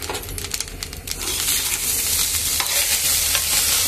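Fried rice being stir-fried in a hot pan, with loud, busy scraping and tossing over a dense, continuous sizzle that grows fuller after the first second.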